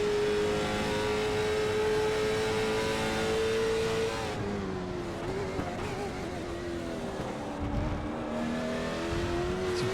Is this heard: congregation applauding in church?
no